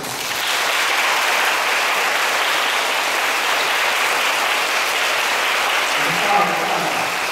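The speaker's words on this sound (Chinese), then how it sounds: "这是热烈的掌声。" A crowd at a Buddhist lecture gives warm, continuous applause that stays at an even, dense level for several seconds.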